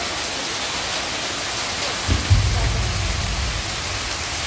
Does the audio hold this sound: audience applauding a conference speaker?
no